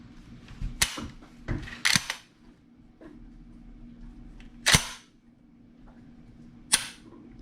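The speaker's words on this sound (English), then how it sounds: "Now, I've cycled this weapon quite a few times." A freshly cleaned and lubricated hunting weapon's action is cycled by hand, giving a few sharp metallic clacks and slides spaced irregularly over several seconds, close up and alone.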